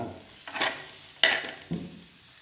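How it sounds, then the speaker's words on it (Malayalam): Chopped onions sizzle in hot coconut oil in a pan while being stirred, a soft frying hiss broken by a few scraping stirs, close and fairly quiet. "ഇതിലേക്ക് അരിഞ്ഞു വെച്ച സവോള എല്ലാം ചേർക്കുക."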